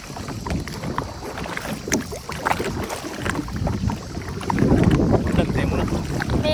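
A kayak is paddled across Samanala reservoir near Belihuloya, with rhythmic paddle splashes and water movement under gusty wind noise and some voices.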